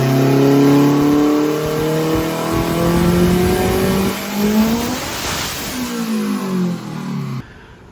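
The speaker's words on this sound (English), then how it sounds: "As soon as the boost kicked on, right to redline." A turbocharged Nissan Juke engine, tuned to rev toward 10,000 RPM, screams loudly up to redline once boost comes on. The pitch climbs steadily, dips briefly, then climbs again before cutting off abruptly at the end.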